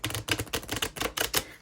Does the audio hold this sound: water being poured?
no